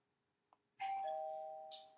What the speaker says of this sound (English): Sorry, doorbell, I got a package.